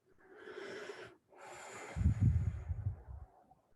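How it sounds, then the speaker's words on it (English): One slow, deep breath drawn in through the body during a guided relaxation, a brief pause, then a long audible release of air, close and soft. "Breathing into your tummy, your gut, and release."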